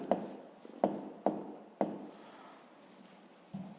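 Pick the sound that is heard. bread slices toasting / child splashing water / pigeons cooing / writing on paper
writing on paper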